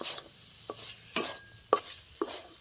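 A spoon drags through sweet dough thickening in a pan as the water dries off, giving five or six soft, separate scraping strokes over a faint sizzle, close by and fairly quiet.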